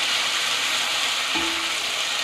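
Ginger-garlic paste and tomatoes fry in a pan for a spinach and turnip curry. A loud, steady sizzle continues throughout with no break.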